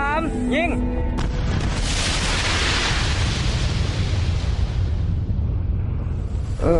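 A bomb disposal team in Laos sets off a demolition charge outdoors. After brief voices, a huge deep blast erupts, and its roar rolls on and slowly fades over several seconds.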